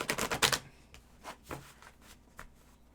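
Tarot cards are shuffled by hand: a quick run of crisp riffling snaps up front, then a few scattered softer flicks and taps, close and quiet with no talk.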